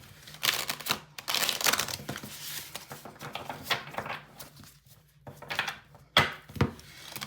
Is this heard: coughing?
no